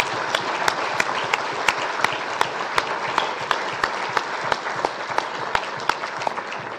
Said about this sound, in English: can I ask you to give a warm welcome and round of applause to